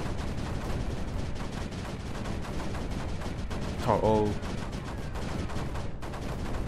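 A gun turret firing in the video game Creeper World 4: a busy bed of rattling, gunfire-like game effects runs throughout, with a brief tonal burst partway through and a voice exclaiming over it.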